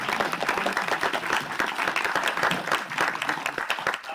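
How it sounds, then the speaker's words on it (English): An audience at an architectural history conference claps steadily to welcome a keynote speaker, with dense, even applause continuing throughout. "it's certainly worthy of a round of applause for actually getting here"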